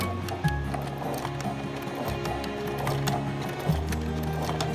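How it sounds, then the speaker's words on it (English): Sewing machine stitching cloth face mask fabric, a steady close mechanical whir with brief stops and restarts of the motor. "Go ahead and follow the edge of the fabric. Sewing all the way down until you get to this edge,"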